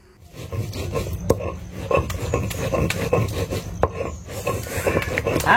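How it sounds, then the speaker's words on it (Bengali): A coconut-leaf broom sweeps a floor in quick, rhythmic, scratchy strokes, close and fairly loud, each swish a dry rasp with no talking over it. "তবে আমার নারিকেল ঝাড়ু দিয়ে কিন্তু বেশ ঝাড়া সুন্দর হয়।"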